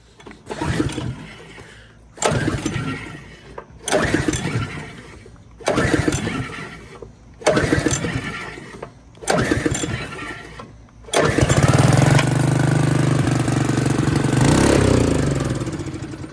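An old rototiller engine, choked, is pulled over about six times in short rhythmic bursts, then catches and runs on at a steady, fairly loud idle.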